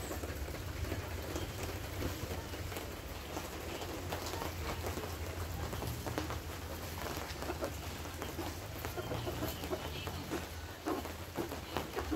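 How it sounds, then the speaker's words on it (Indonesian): Light drizzle beginning to fall outdoors, a steady soft hiss of fine raindrops spread evenly throughout with no pauses, at a low, even level. "Hujan gerimis-gerimis teman-teman ya, mulai hujan sekarang."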